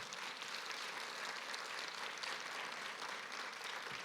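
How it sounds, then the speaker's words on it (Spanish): A church congregation applauds after a sermon, a steady, sustained wash of clapping heard from within the room at moderate loudness, with no talk over it. "Denle fuerte aplauso al Señor."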